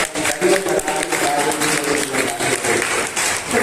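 An audience at a Hindi poetry gathering breaks into sustained, dense applause, clapping loudly and steadily throughout.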